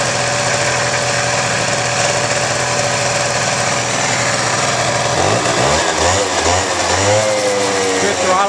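Honda Aero 50 scooter's small two-stroke engine running close up, a steady buzzing idle that shifts into wavering revs and throttle blips in the final seconds.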